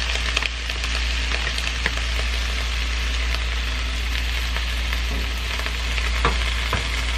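Bok choy and onion fry in hot oil in a pan, a steady close sizzle with occasional sharper pops and crackles over a low constant hum.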